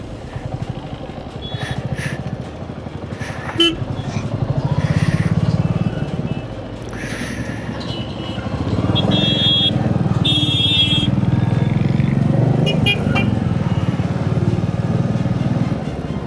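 Motorcycles and other vehicles passing on a mountain road in Uttarakhand, engines droning and rising as they move by at close range, with a horn sounding and someone talking over the traffic noise.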